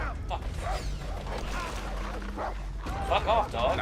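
Dogs in the video game Far Cry bark and yip in quick, overlapping bursts close by, mixed with game noise and a man's speech.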